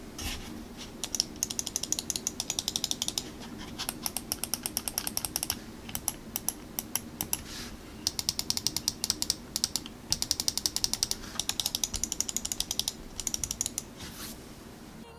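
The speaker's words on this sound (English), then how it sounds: "this mouse is also equipped with the 50 million click Omron switches" Corsair M65 RGB Elite gaming mouse with Omron switches clicking, long runs of rapid, even, crisp close clicks with short pauses between bursts, steady and quiet over a faint background hiss.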